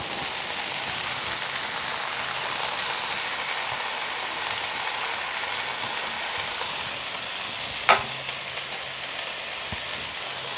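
Leeks, carrot and cabbage stir-fried in a pan give a steady, close hiss of sizzling throughout, broken by one sharp metallic clink of a utensil near the end; no one speaks.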